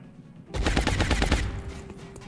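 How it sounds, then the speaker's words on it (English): Rapid automatic gunfire from XCOM: Long War, a loud burst of about ten closely spaced shots lasting around a second, then a trailing echo fading out. "We try to gun it down."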